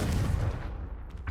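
A Confringo fire-blast spell exploding in Hogwarts Legacy, a dense low rumbling blast already under way that decays over about a second, with a faint sharp crackle near the end.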